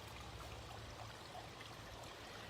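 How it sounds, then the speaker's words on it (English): A small cast waterfall in a backyard garden pond spills water in a soft, steady trickle, faint and continuous throughout with no talking over it. "There's the pond the boys made me with Rob a few years ago. They even casted that waterfall"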